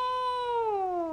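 A giant cat in the video game Calico lets out one long, drawn-out meow that slides downward in pitch, clear and close with no talk over it.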